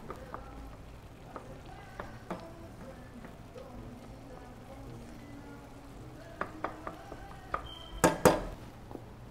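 Risotto with wine simmering in a pan as the alcohol cooks off, giving a faint, steady sizzle and bubble broken by a few soft utensil taps, then a louder clatter near the end.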